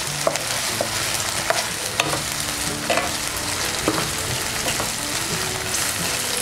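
Ginger garlic paste fries in hot oil for paneer biryani, a steady close sizzle broken by scattered clicks and scrapes of a spoon stirring the pan.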